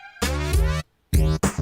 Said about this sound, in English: All right, so this is the Flanger.